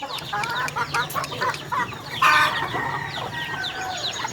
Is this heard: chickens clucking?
yes